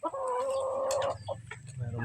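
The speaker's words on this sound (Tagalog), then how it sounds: "Meron mga tandang natin ulit dyan" A backyard rooster gives a loud nearby squawking cluck, a sustained call followed by a few short clucks in the open air.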